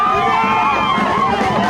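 Crowd of fans and airport staff in Cameroon cheering and applauding Kylian Mbappé's arrival at the foot of the plane stairs, a dense, loud, continuous roar of voices with no gaps.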